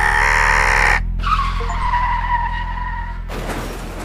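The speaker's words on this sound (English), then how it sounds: "What if I literally just crash the bus?" A bus crashes and skids in the horror video game Night Bus, with loud screeching tire noise and engine roar that cuts out abruptly, then a rougher scraping burst at the end.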